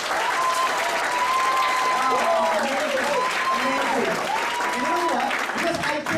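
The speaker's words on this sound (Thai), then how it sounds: "give a round of applause to that" An audience at a network marketing business talk applauds in a dense, sustained round of clapping, while voices speak over it throughout.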